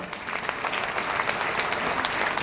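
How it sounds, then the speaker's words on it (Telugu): A seminar audience claps together in steady, dense applause throughout, moderately loud and continuous, with no break. "గట్టిగా క్లాప్స్ కొట్టచ్చు."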